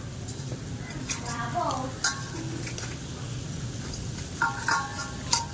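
Food being stirred and fried in a pan in a home kitchen during a birthday gathering, with soft scraping, faint sizzle and occasional clinks of utensils, under ongoing background chatter.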